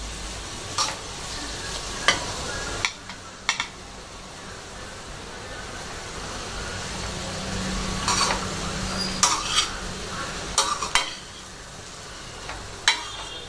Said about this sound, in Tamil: நல்லா ரைஸ் வந்து நம்ம நல்லா கிளறி விட்டுட்டோம்